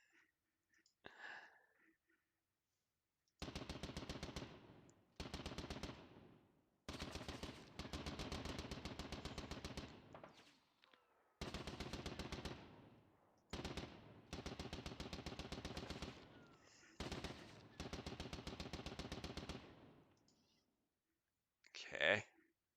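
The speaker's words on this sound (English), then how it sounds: "Machine gun, machine gun." Machine gun fire in France '14 Battle of Dinant: repeated long bursts of rapid, evenly spaced shots, separated by short pauses, fairly quiet overall, with a brief sharp sound at the very end.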